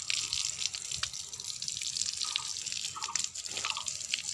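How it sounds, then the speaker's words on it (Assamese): Water from a motor pump splashes steadily while a cow is washed, a continuous bright spray with a few louder gushes and drips, close by with no talking. "আমি মটৰ পানী দিয়ে গা ধুৱাই দিছোঁ এয়া গৰুক"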